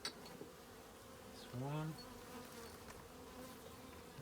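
A bee buzzes close by, its drone swelling loudly for a moment near the middle before fading back to a faint hum, with a brief spoken word early on.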